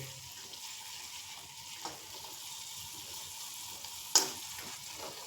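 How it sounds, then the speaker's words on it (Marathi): Crumbled stale chapati powder roasting lightly in ghee gives a faint, low sizzle throughout, with a couple of soft stirring scrapes and one sharper clink near the end, and no talking. "हलकंसं आपण तुपामध्ये आपण हे गरम करून घेऊया"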